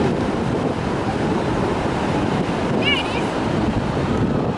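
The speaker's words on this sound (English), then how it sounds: "look at those waves." Ocean waves roll onto the beach at Galveston, Texas, a loud continuous surf roar mixed with wind buffeting the microphone, with a brief faint voice-like sound partway through.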